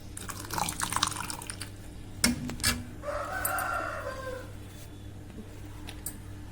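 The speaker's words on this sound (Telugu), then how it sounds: "మేము వీడియో తీస్తుంటే మా కోళ్ళు అరుపులు ఎక్కువ వినిపిస్తున్నాయి" Chickens cluck and call in the background, with a brief crow-like cry mid-clip, over steady ambient noise and a few drips; no talk.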